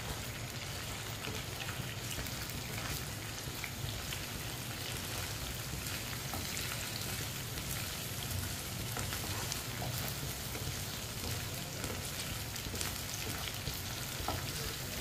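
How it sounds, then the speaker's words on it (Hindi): Cut okra fries in hot oil while being stirred with a spoon, a dense continuous sizzle with faint scraping, close and steady throughout with no talking. "अब इसे 3-4 मिनट के लिए फ्राई कर लेंगे, ऐसे ही चम्मच चलाते हुए।"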